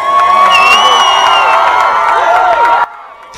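A dense, loud crowd at Glastonbury festival cheers and whoops for actor Johnny Depp, with shrill high shouts layered throughout, then cuts off abruptly near the end.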